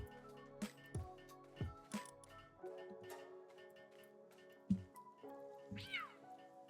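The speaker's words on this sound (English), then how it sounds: "You are a really noisy cat there." A house cat meows repeatedly, several short, fairly quiet calls in an irregular rhythm over a faint, steady ticking background.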